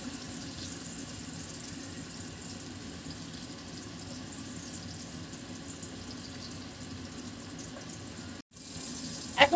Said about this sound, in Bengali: ডিমটাকেও আমি ভালোভাবে একটু ভাজা ভাজা করব।